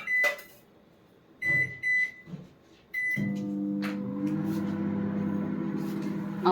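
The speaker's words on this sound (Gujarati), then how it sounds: "માઇક્રોવેવ ચાલુ થઈ ગયું." A microwave oven heating tea with sugar and ginger in a bowl: a few short beeps and clicks, then a steady low hum as it runs, close and alone.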